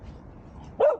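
A dog on a countryside walk near Hexham lets out a single short, sharp bark near the end, after a quiet outdoor background.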